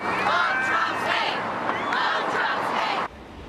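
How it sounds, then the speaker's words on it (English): Street protesters in a big city chant in unison against Donald Trump after the 2016 election, loud rhythmic massed voices that cut off abruptly near the end. "along with chants of "Not my president" and "Dump Trump,""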